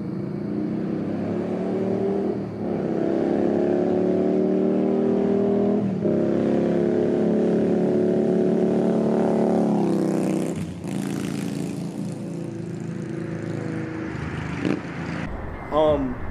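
A 2018 Indian Scout Bobber with Trask slip-on exhaust drones steadily at highway speed, a sustained mid-pitched hum with wind rush, shifting tone briefly near the end.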